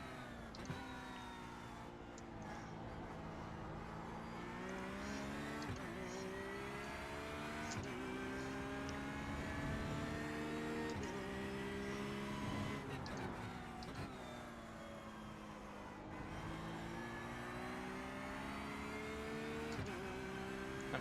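A Porsche GT3 race car in the iRacing sim at Interlagos, its engine droning with a steady, continuous growl that rises and falls slightly over about twenty seconds, with no voices.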